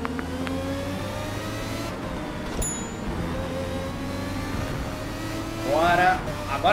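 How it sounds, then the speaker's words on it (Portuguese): A Ferrari V12 racing car engine in Forza Motorsport drones steadily at high revs, with a shifting whine climbing near the end, heard at moderate distance. "Curte esse som desse motor V12"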